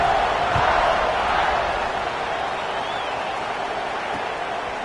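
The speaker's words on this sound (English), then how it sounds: "this crowd is buzzing after that last score" A college football stadium crowd buzzes loudly after a punt-return touchdown, a steady broad roar of cheering that eases slightly over the stretch, with a few faint thuds.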